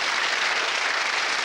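Studio audience at a 1980s magic show applauding, a dense even burst of clapping lasting only a moment.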